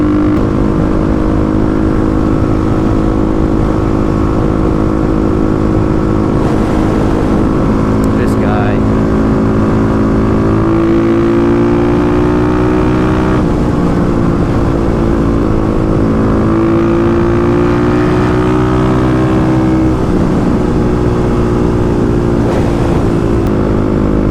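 Kawasaki KLX351 motorcycle, a 35 hp single, chugging along steadily in sixth gear at a brisk pace, a loud continuous low engine drone with slight rises in pitch, wind noise and a voice talking throughout.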